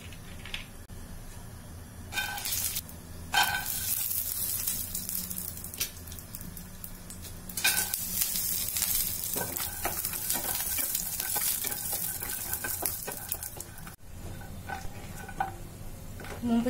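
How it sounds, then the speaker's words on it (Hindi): Peanuts fry in a little oil in a hot kadai, a steady crackling sizzle punctuated by repeated stirring scrapes and metallic clinks, fairly close and without talk. "अब हम इसमें थोड़ी सी तेल डाल के मूंगफली को दाना को फ्राई करेंगे।"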